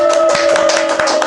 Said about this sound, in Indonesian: Tepuk tangan untuk Bang Denny.